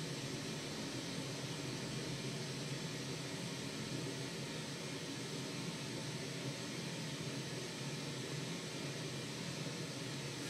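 A constant, muffled hiss of white noise, played at 85 decibels in a hallway, continues evenly, softer and duller through a closed door, with no other sounds.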